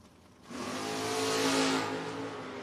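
Corvette and Nova drag racing to the finish line at a no-box 660 shootout: a loud engine roar swells in abruptly, holds at full throttle as the cars pass, then eases slightly, heard from trackside without voices.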